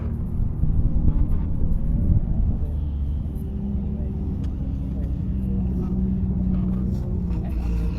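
Race cars at Nashville Superspeedway roll out onto the circuit for a recon lap, a steady low engine rumble that holds at an even level throughout without a distinct pass-by.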